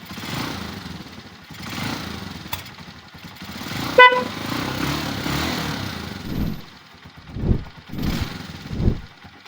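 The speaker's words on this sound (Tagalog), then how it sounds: "bubukas lang, nagkaroon agad ng busina" A TMX 125 motorcycle engine idles and revs, with a short sharp horn toot partway through and louder engine surges near the end.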